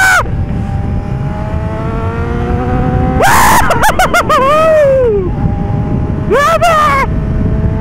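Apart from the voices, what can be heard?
Kawasaki Z900 inline-four motorcycle with screamer exhaust accelerating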